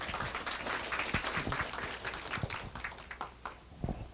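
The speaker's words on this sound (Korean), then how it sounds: "큰 박수로 맞이해 주시기 바랍니다." Scattered clapping from a modest audience at a university degree ceremony, light and uneven with individual claps standing out, fairly faint and held at a distance.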